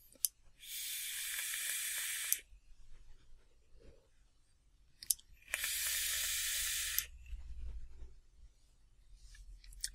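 Double-coil vape producing vapor gives two long, steady, loud hisses of about a second and a half each, separated by a quiet gap with faint clicks and handling noise, and no talking.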